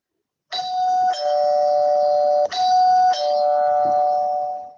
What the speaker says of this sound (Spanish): Ani, Alfredo, parece que está sonando mi timbre y tengo que atender